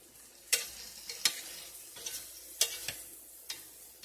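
A vegetable mix for pork lo mein stir-frying with a low, quiet sizzle, broken by several sharp clicks and scrapes from a utensil striking the pan at irregular moments.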